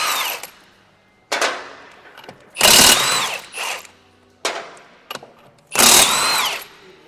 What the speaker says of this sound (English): Now, we use a 1/2 inch impact. It's a lot easier. It's a little noisier, so when you put it on there, it's going to make some noise.